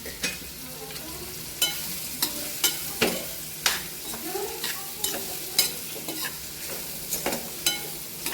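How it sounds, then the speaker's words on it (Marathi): Chopped ridge gourd stir-fried in a hot tempering with a spatula, sharp scraping strokes against the pan at an uneven rhythm over a steady close sizzle, no talking. "त्याला परतून घ्यायचे चांगलं फोडणीमध्ये अशा पद्धतीने"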